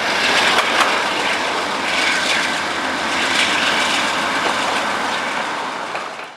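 BNSF freight auto-rack train with a DPU locomotive crossing near a bridge, a loud steady broadband rumble and roar of engines and rolling cars holding throughout, fading slightly at the end.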